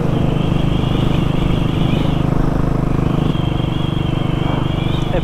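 A motorcycle engine and exhaust drone steadily while riding, a loud continuous rumble with a rising and falling whine as the revs shift.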